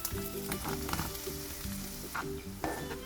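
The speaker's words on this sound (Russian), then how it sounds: "Отправляю лук на разогретую сковородку." Chopped onion frying in a heated skillet for a quick pizza-style dinner, a steady close sizzle and crackle with soft stirring scrapes, no talking.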